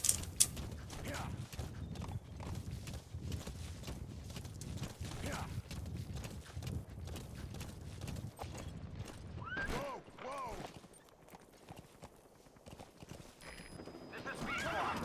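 Repeated hoofbeats of a horse galloping in Metal Gear Solid V, a steady clip-clop with whinnies, mixed with other game sounds.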